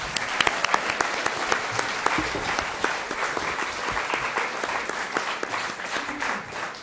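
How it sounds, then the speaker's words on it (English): Sustained applause from an audience for secondary school students after their performances at a Chinese proficiency competition, steady dense clapping throughout at moderate loudness with no talk. "So could we please give them another round of applause?"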